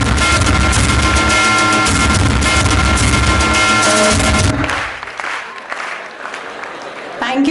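Students applaud loudly and steadily at an opening ceremony, dense clapping for several seconds before it thins out and fades.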